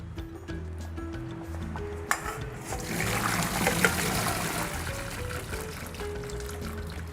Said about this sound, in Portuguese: aqui eu vou utilizar o meu escorredor de macarrão